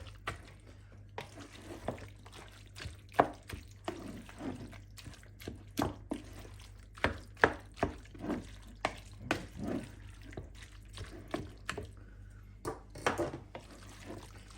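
Minced meat for a bolognese base is stirred in a pan, giving irregular scraping taps and wet, squelchy clicks at a moderate, uneven pace with no talking.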